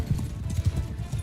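A brief burst of horse hooves clip-clopping in Mount & Blade II: Bannerlord, a quick muffled low thudding rhythm of riders on the move.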